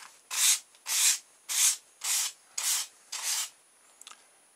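Hand trimming of a simple balloon-powered model boat, six even rasping strokes in a steady rhythm with short gaps, close and clear, followed by a couple of faint taps, no talking.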